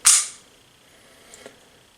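A Taurus TH40 pistol's double-action trigger gives one sharp, close snap, followed by two faint, quick ticks about a second later.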